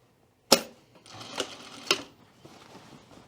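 Sewing machine stitching a skirt seam at regular allowance, starting an inch from the center back edge: a sharp starting clack, then short bursts of rapid whirring stitches with brief pauses, close and fairly loud, no voices.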